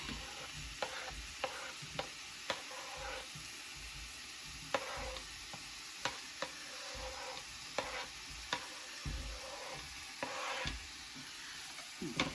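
Pineapple being stirred in a pan for a holiday ham slider jam, with a steady soft sizzle under repeated sharp scraping and knocking strokes of a utensil against the pan, close and fairly loud, no talking.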